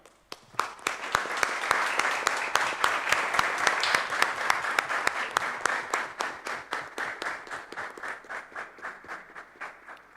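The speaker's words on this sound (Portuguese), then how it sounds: "a gente pudesse dar uma salva de palmas para esses grandes soldados" Applause during a Brazilian city council session: a crisp, rhythmic burst of clapping that builds quickly, holds steady, then thins toward individual claps as it tapers off, close and fairly loud.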